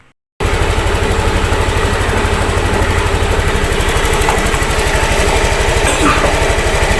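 A Yamaha Aerox scooter engine, just cleaned after stalling with an error 12 fault, starts abruptly and runs steadily with a loud, rapid, buzzing idle throughout.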